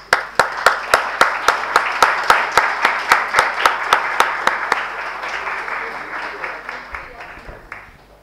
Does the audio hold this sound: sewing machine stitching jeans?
no